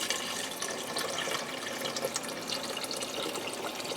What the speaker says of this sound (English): Now I have a 4-cup box of beef broth I'm going to add in.